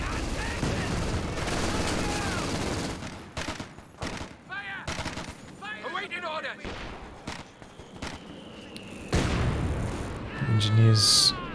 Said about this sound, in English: Sounds like a few of these Grenadiers have picked up a few Vickers now as well